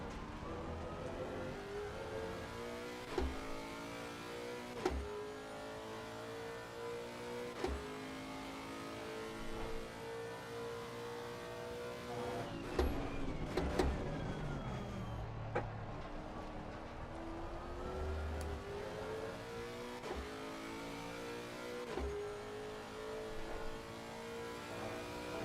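A Lexus race car engine revs in Assetto Corsa Competizione at the Red Bull Ring, its pitch rising through the gears and dropping on each shift in a steady cycle, with a busier burst of engine noise midway.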